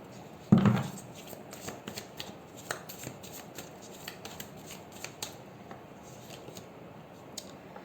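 Tarot cards shuffled and drawn for a reading, one sharp riffle burst near the start, then soft scattered taps and slides of cards being laid out, quiet and close.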